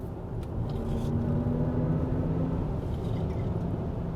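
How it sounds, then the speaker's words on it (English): Synthetic motor noise from a 2025 Chevy Blazer EV SS accelerating in sport mode, a low, steady droning hum with a faint rising tone inside road rumble, without talk. "as you accelerate, you do get a little bit of that motor noise cranked in"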